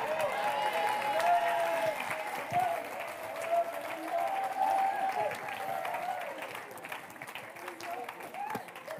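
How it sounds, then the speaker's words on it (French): Church congregation applauding during a Sunday service, a steady wash of clapping that holds for several seconds and fades slightly toward the end, with a voice speaking over it and a sustained musical tone underneath. "On peut les applaudir ce matin."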